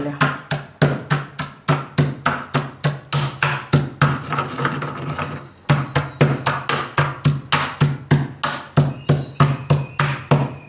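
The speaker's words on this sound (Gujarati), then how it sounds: "આ રીતે આપણે હાકર ખાંડી લેવું" Sugar pounded with a pestle while making a sweet gond kateera sharbat, a loud steady run of rhythmic thuds about three per second, with a short scraping pause midway.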